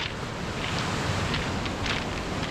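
North Sea tide surging onto the Scottish coast in winter, a continuous loud roar of breaking waves with wind rush close to the microphone, no voices.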